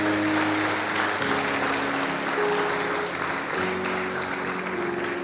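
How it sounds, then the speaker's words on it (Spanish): A church congregation at a Sunday family service applauds, steady dense clapping heard at moderate distance over a sustained tonal backing, with no speech over it. "Denle un fuerte aplauso al Señor."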